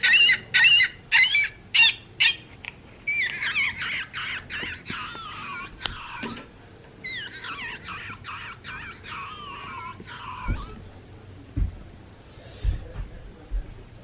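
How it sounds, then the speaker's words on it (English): Recorded California gull calls from a Wild Republic bird plush toy, loud close squawks in a clipped opening series followed by longer wavering cries, ending with a few handling thumps. "California gull."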